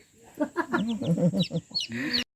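A mother hen clucks close by among her newly hatched chicks, a brood of about nineteen or twenty, giving a run of short, soft clucks with high peeping chick calls mixed in, ending in a brief rustling burst.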